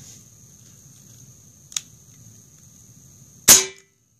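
A single sharp shot from an Air Force Escape UL .22 air rifle cracks out loudly and up close after a quiet stretch with a faint low hum and one small click beforehand.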